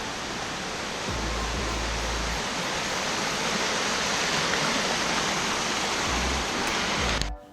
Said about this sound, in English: I'll try and see if I can get some footage of both of the waterfalls coming together